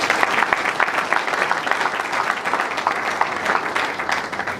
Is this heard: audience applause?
yes